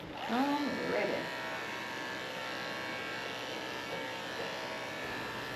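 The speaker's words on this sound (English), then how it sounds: "I'm going to finish shaving her neck and I'm going to get started on her face and ears." Electric clippers shaving a schnauzer dog make a steady, close, droning buzz that runs throughout, with a short stretch of voice near the start.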